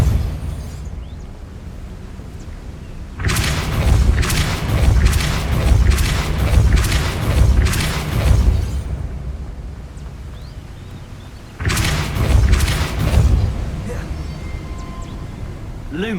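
Repeated spell blasts in the Hogwarts Legacy video game, booming bursts in two dense clusters separated by a quieter gap, loud and close over a low rumbling bed.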